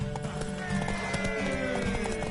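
Horse hooves clip-clop in a quick, uneven beat while a horse whinnies in The Witcher 3, with a busy mix of game sounds and a faint voice underneath.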